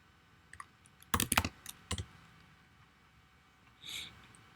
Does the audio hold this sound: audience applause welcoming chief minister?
no